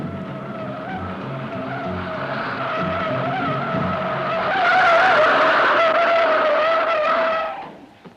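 A car accelerates hard during a film car chase, its engine roaring loud and close under sustained squealing tire skids. The sound swells midway and then cuts off abruptly near the end.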